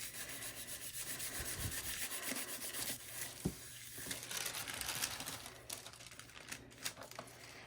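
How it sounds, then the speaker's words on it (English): Scrap polymer clay is burnished by hand, giving a steady, faint rubbing and scraping texture with a few sharper ticks, close and quiet with no talking. "So this is the side I'm going to really burnish."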